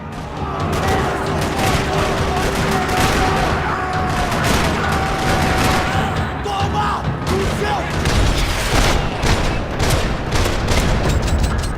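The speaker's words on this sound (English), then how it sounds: "Another parking lot rattling with gunfire." Dense, relentless gunfire in the video game Max Payne 3 rattles nonstop through a parking lot with scattered booms, loud and chaotic, and voices faintly buried in the din.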